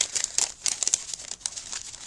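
Thin paper die-cut ephemera pieces from a 112-piece craft pack being shuffled and handled, giving soft close crinkling and rustling in irregular bursts, faint, with no talk.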